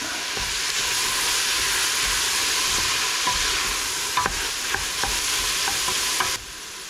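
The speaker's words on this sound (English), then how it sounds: "I don't measure my garlic, I just put some in. And we're going to cook that for like another minute." Garlic fries in a pot for split pea soup with a steady, fairly loud sizzle and hiss, punctuated by a few light stirring scrapes and clicks near the end.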